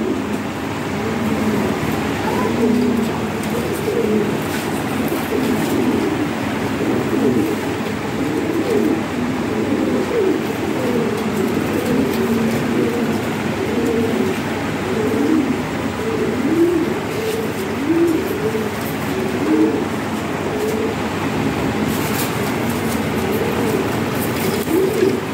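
A flock of Lahori Shirazi pigeons coo continuously in a loft, overlapping soft warbling calls forming a steady murmur, close and fairly loud, with faint background activity.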